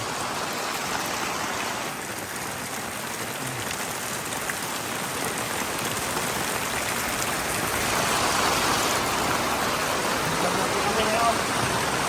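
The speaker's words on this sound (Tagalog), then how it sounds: "Umuulan ngayon dito." Steady, dense rain hiss fills the whole stretch outdoors in Dingalan, Aurora, a broad wash of falling drops at constant strength with no pauses.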